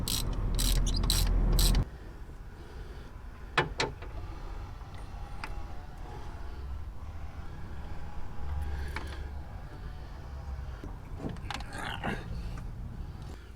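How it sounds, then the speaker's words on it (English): A 17mm ratchet loosens spark plugs on a 1.8-litre MX5 Miata engine. A burst of clicking ratchet strokes comes up close at the start, followed by scattered metallic clicks and handling noises over a low background hum. "17mm ratchet, on here we go"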